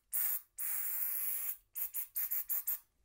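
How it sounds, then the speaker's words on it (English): Isopropyl alcohol is sprayed from a spray bottle onto a piece of felt in a close, loud series of hissing bursts: a short spray, a long one lasting about a second, then six quick puffs. "off camera I spray this thing on it because I don't want to mess up the things over the table"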